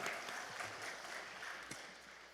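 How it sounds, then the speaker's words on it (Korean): Congregation clapping in a Korean church prayer retreat, a fairly quiet, somewhat distant wash of hands applauding steadily for a couple of seconds with faint low rumbles beneath. "우리 목사님 나오실 때 할렐루야로 하나님께 영광의 박수 올려드립니다"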